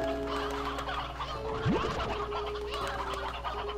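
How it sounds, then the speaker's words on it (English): Chickens in the video game Slime Rancher 2 cluck in short, close bursts over a steady ambient game hum, with one rising squawk standing out midway. "Good God, it's chickens."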